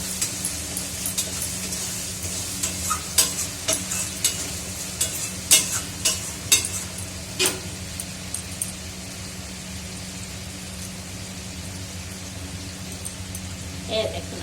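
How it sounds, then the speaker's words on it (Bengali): Spices fry in a pan with a steady close sizzle, while a run of sharp scraping stirs comes in the first half and then thins out, and someone talks now and then over the cooking. "মশলাটা ভাজা হচ্ছে, বেশ সেন্ট আসছে।"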